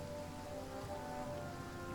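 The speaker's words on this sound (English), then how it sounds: "There is some rain here." Rain ambience in the strategy game Hearts of Iron IV, a steady, faint wash of rainfall hiss with no breaks and no voices.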